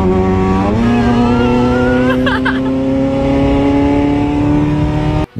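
A sports car driving, its engine a steady loud drone that rises in pitch as it accelerates, heard close and continuous from start to finish.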